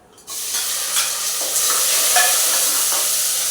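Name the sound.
onion and green chilli frying in pan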